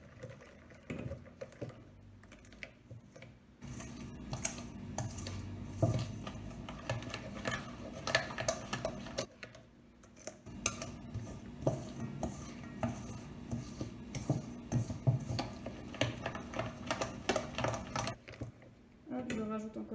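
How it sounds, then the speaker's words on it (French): Cookie dough being mixed with added flour in a bowl, a steady run of scraping, clinking utensil-on-bowl sounds with short pauses, close and moderately loud. "Et je mélange."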